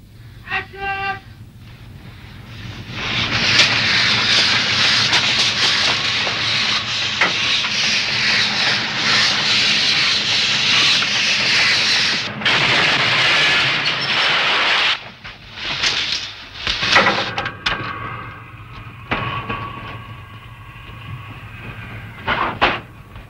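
Train cars rolling along sheet-metal rails ahead of a staged derailment, with wagons prepared for destruction; a steady loud rumbling and rubbing run continuously, then break into uneven clattering bursts toward the end.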